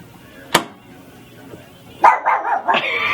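A pet dog barks close and loud indoors: one sharp bark, a short pause, then a rapid burst of several barks.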